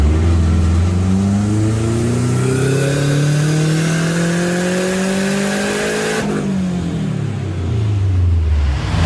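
A Subaru STi fitted with an EWG billet VF48 turbo revs hard on a dyno during a tuning pull. Its engine note climbs steadily and loudly, then drops abruptly as the run ends, with no talking.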